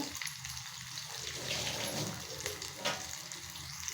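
Onion, garlic and ginger fry in a pan with a soft, close sizzle and some stirring noise, fairly quiet and continuous over the few seconds.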